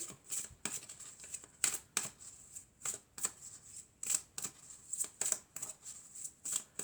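Oracle cards from an Archangel Michael deck being shuffled up close, a steady run of quick crisp riffling bursts and flicks with brief pauses, alone without talk.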